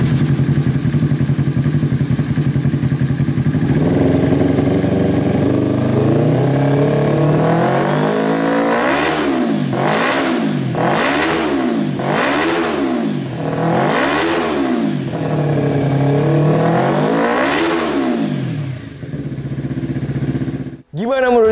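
A Yamaha R25 motorcycle with a custom K20 exhaust and no dB killer idles, then revs hard again and again in a rising-and-falling rhythm, loud and close, before cutting off abruptly near the end.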